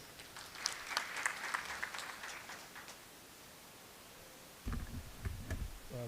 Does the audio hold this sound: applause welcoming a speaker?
yes